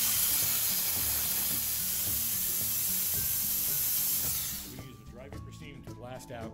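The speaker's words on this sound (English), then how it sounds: "we're going to take the Vapor Rhino system, and we're going to use dry vapor steam." A Vapor Rhino dry vapor steam cleaner blasts a motherboard with a loud, steady hiss that cuts off abruptly, after which someone speaks.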